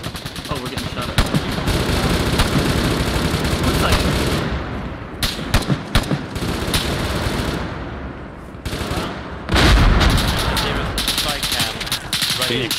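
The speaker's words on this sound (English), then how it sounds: "Oh, we're getting shot at." Heavy video game gunfire in a German forest patrol: loud, sustained automatic bursts and shots rattle almost continuously, with brief gaps, and a voice talking over the barrage.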